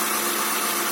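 A car engine idles steadily after a rear main seal replacement, a constant loud close-up drone with no change in pitch, no voices.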